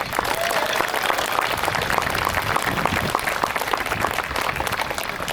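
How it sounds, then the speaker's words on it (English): Audience at a civic center grand opening in Newark, California, applauding the construction crews, dense, lively clapping with distinct individual claps standing out, steady and close throughout. "Let's give the construction crews a big round of applause."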